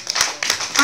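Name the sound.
congregation clapping hands to acclaim Jesus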